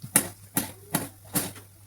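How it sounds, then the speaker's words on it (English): Knife chopping tomatoes on a cutting board for an egg curry, four sharp, evenly spaced chops close by, with quiet pauses between strikes. "Now I'm chopping the tomatoes."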